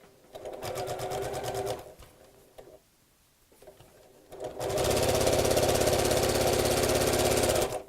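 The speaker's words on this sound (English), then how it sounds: "sew straight across on my machine" Sewing machine running straight across the lined seam of a scalloped flap clutch bag: a brief burst of close stitching, a pause, then a longer steady run, loud and without talk.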